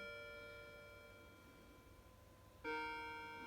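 A clock's steady tones ring softly and sustain at eight o'clock, and a fresh louder chime strikes near the end, close by in a quiet room.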